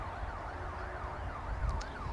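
A police siren wails outside in a steady repeating up-and-down sweep, moderately distant, over a low background rumble with a couple of brief clicks near the end.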